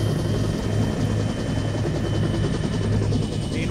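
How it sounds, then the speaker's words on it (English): A Chinook helicopter from the VR game Onward passes overhead, making a continuous, loud, low rotor thump with a steady drone that holds for a few seconds without speech. "ignore the Chinook Center passing overhead"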